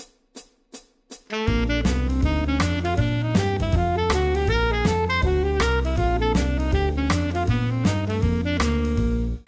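After four count-in clicks, a keyboard plays a quick scale in thirds, each pair preceded by a chromatic approach note, over a steady beat.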